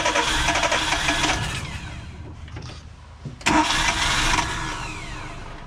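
A carburetted engine with the choke fully on cranks and starts loudly up close, dips briefly, then catches again and runs at a rough, steady idle.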